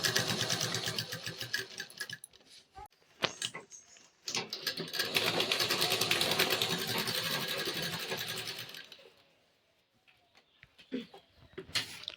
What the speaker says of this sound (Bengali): এই যে এখন আমি এই পাশ দিয়ে সেলাই করবো